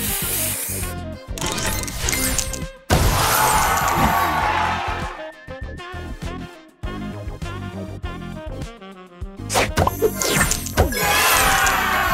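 Spray booster effect in the Match Masters puzzle game, bursts of hissing spray and crashing, clattering tile-smash sounds layered with bright chimes and game music, loud and busy throughout.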